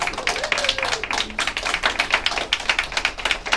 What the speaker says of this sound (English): Let's give Nancy a big round of applause